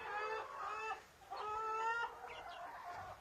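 Young crested hens in a village farmyard in late autumn give several fairly quiet, drawn-out clucking calls in succession, with short pauses between them. Nobody speaks.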